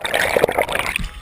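Water splashes as a fish is pulled up out of the surface, a short burst of gurgling and splattering over about a second, close and fairly loud.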